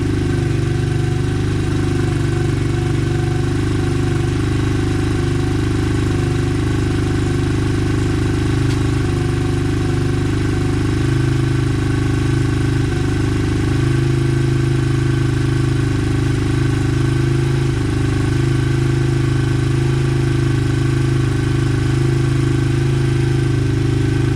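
A Honda XR 100 motorcycle engine runs after a carburetor swap, holding a loud, steady, close-up thumping idle with a rough pulsing rhythm throughout, no talking.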